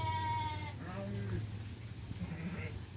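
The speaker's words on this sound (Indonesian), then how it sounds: "Kambing." Goats bleating on a village farm during the rice harvest in the West Java countryside, several harmonic calls overlapping in the first second and then trailing off, with background voices and outdoor ambience.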